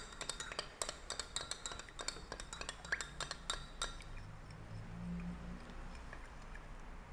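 A spoon stirs cold brew mocha with chocolate sauce in a glass, giving a rapid run of light, faint clinks and ticks that slows and thins out toward the end.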